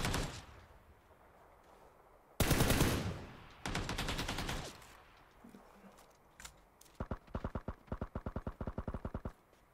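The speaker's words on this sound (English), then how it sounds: "I'm getting shot from somewhere else." Video game gunfire in rapid bursts: a loud sustained volley, another burst, then a rhythmic string of sharp repeated shots near the end, with quieter gaps between.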